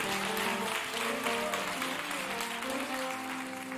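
A church congregation claps together in steady, sustained applause that fills the room, loud and continuous throughout with no clear pauses, while an organ or keyboard holds chords underneath.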